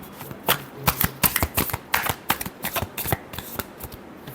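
Tarot cards are shuffled close up in a run of quick, crisp riffling bursts and soft slaps, moderately quiet and uneven in rhythm.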